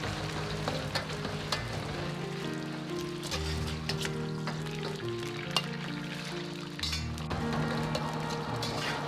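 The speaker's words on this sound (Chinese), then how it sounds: "倒入腌好的肉片" Marinated pork slices hitting medium-hot salad oil in a wok and spread apart with a ladle: a steady, even sizzle throughout, with occasional light metal clinks of the ladle.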